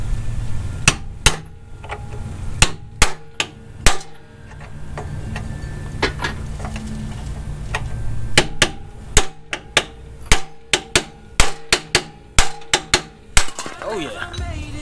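Sharp metallic hammering bursts from a small air chisel working loose a metal ring on an IS300 rear end, irregular clusters of loud strikes over a low hum of shop noise.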